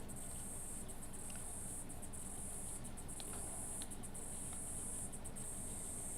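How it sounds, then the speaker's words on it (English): A constant shrill whine of cicadas fills the outdoor air, softly pulsing with occasional short breaks, distant and unbroken by speech. "Yes, it is a cicada variety"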